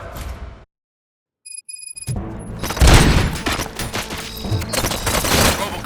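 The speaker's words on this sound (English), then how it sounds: "Gunshots? What's going on?" Gunfire in the video game Robocop: Rogue City: after a brief silence and some high electronic tones, a loud, dense volley of shots and booms rings out and keeps going.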